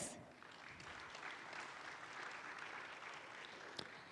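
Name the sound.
audience applause for the panelists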